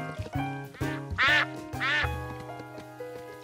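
Ducks in a cartoon give several loud, close quacks in quick succession, overlapping with each other and a bright musical score.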